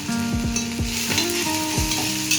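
Vegetables stir-fried with salt in a hot pan, a steady close sizzle broken by repeated scraping stirs of a spatula against the metal, several strokes in quick succession.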